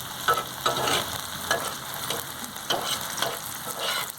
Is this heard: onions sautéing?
yes